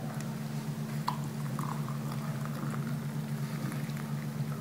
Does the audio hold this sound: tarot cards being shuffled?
no